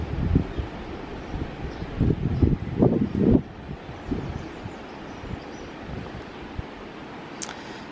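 Outdoor wind on the Amalfi Coast rumbling into a microphone, loud gusts buffeting in the first few seconds and then easing to a steady, softer rush.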